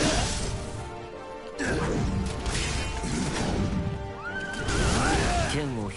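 A horse whinnies loudly twice amid busy effects in the game Berserk and the Band of the Hawk, with crashing impacts and some hoof-like clatter between the neighs.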